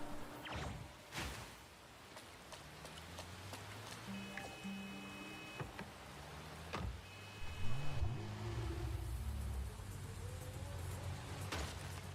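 Car engine in a first-person racing video game, revving and shifting through varied pitches, with whooshes and passing effects over a busy game soundtrack, moderately loud throughout.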